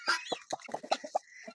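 A brooding hen sitting on hatching eggs clucks in a quick series of short, close, throaty notes, about eight in a row, with no voices over them.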